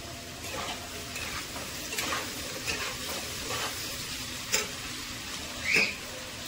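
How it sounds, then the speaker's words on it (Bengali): Vegetables fry gently with salt and turmeric, a soft, fairly faint sizzle with occasional light stirring knocks and clinks. "নুন আর হলুদ দিয়ে এটা একটু ভাজা হতে দেবো।"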